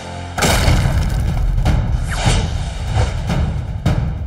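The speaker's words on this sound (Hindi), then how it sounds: "अरे वाह बॉस, ये तो बड़ा धमाकेदार योयो है।" Cartoon explosions from an explosive yoyo in a Hindi kids' cartoon, a series of loud booming blasts repeating every second or so, each a sharp thud with rumbling tail, close and dominant with no talk.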